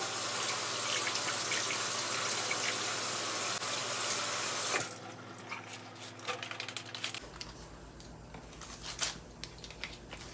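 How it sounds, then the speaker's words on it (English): Water runs from a kitchen tap into the sink as green onions are washed for a Sunday dinner. A steady, strong gush is followed by softer, uneven splashing and trickling as the flow changes. "Let the water run."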